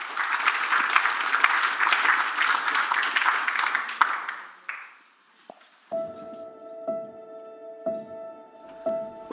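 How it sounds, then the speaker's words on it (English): A church congregation claps for a minister at a sermon, dense applause for about four seconds that fades out, followed by quiet and then a sustained ringing electronic tone with soft taps. "why don't we just clap for him and thank God for him"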